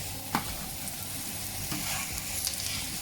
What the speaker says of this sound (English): I'm going to saute them until they're done